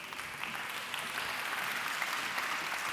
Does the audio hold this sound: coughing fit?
no